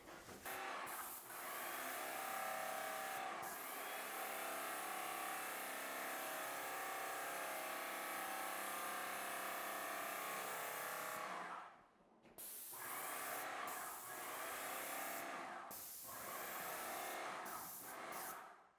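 A paint sprayer lays primer over patched areas on a ceiling and wall, a loud, steady close hiss running for long stretches with a brief pause partway through and short interruptions near the end.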